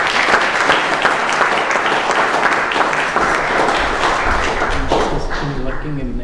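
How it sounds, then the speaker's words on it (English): Loud, dense applause from an audience at a spiritual discourse on the Bhagavatam, continuous clapping that fills the hall, with some voices underneath. "One more clap for them."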